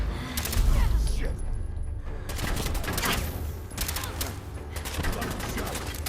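Rapid bursts of gunfire from a Fallout 4 firefight, a sharp volley early on followed by repeated shots and crackling reports throughout, with muffled game sounds underneath.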